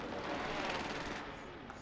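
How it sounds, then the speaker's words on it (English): Rapid gunfire from an online shooter game, a dense continuous burst of shots that stays loud for the first second and then fades slightly, with no clear gaps between rounds. "Somebody's shooting at us"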